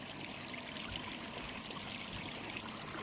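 Water flows steadily through a homemade gold cleanup sluice, a soft, continuous trickling babble that stays faint and even throughout, with no voices.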